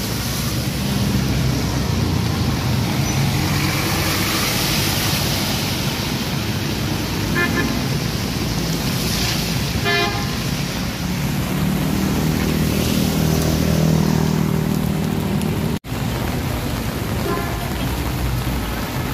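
Vehicles ploughing through floodwater on a Metro Manila avenue during Typhoon Carina, a steady broad wash of water and engine noise with heavy rain, a few faint horn toots mid-way, no talk.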